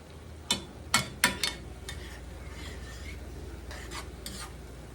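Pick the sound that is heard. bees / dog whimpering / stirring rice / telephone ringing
stirring rice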